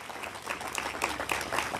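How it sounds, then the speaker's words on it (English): Dense, steady applause from a crowd at the 8th Annual Snohomish County Overdose Awareness Event fills the room with continuous clapping, fairly loud and close, with no clear speech over it. "Everybody give them a round of applause"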